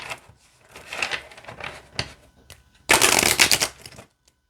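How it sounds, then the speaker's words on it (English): A deck of oracle cards being shuffled close up, with a few soft riffling bursts followed by a louder, rapid flutter of cards lasting about a second. "let's see how it shuffles."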